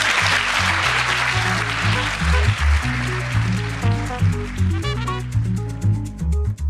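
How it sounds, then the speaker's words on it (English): An audience applauds at the close of a live hospitality podcast talk; a wash of clapping blends with loud background music that plays steadily throughout. "Round of applause for you."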